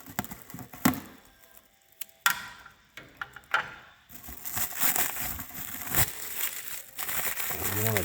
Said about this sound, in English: Let's get all of this jazz off here with my semi-dull scissors.